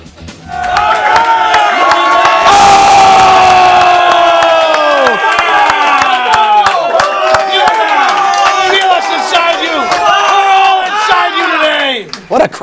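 Crowd at a live show cheers and shouts, with loud overlapping voices and whoops sustained for about twelve seconds and a noisy burst near the start.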